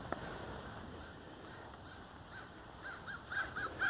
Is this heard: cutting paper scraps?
no